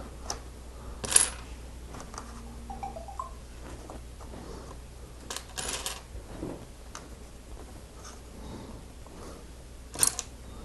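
Small plastic Lego pieces, 1x1 bricks and cones from a limited edition gingerbread house set, clicked and tapped while being handled and placed, giving sparse close clicks and rattles at irregular intervals with no talk.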